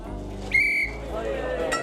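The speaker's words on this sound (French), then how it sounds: "il faut attendre patiemment le coup de sifflet" A single shrill whistle blast signals the start of negotiations at a black truffle market, short and sharp over a low murmur of the outdoor crowd.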